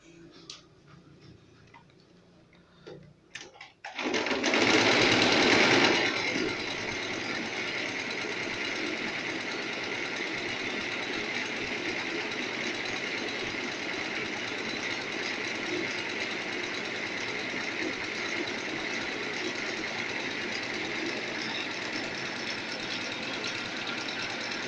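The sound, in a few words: sewing machine stitching hazmat suit fabric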